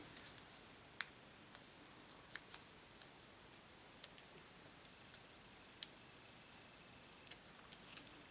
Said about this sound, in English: I'm going to take another one and cut it